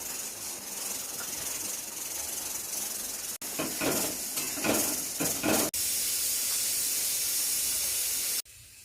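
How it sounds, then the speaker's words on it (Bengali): Fish curry gravy boils and hisses loudly in a pan, a dense steady seething broken by a burst of bubbling and a few abrupt jumps in level. "ঝোলটা ফুটে উঠেছে, এখন আমি ধনেপাতাটা দিয়ে দেবো, তার সাথে মাছগুলো দিয়ে দেবো"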